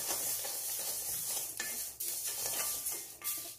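Curry leaves and urad dal roasting in a pan for a Tamil-style milagai chutney powder: a steady dry sizzle with scraping stir strokes and a few sharper utensil clicks against the pan, close by, with no talking.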